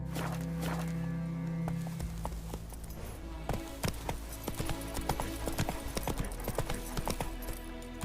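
Roach, a horse in The Witcher 3 at White Orchard, walks with steady clip-clop hoofbeats, near and fairly loud over a game ambience and low hum.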